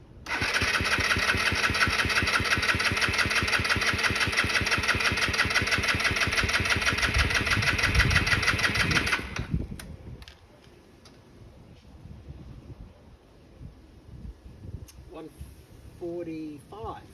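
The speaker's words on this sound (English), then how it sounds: "it should actually crank as soon as I turn that key there" A SYM VS150 scooter engine cranks, catches and runs steadily at a loud, close idle with a ticking mechanical rhythm for about nine seconds, then cuts off, leaving faint background noise and brief talk.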